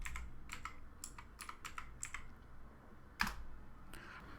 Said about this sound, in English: So let's open the browser and type RAM map.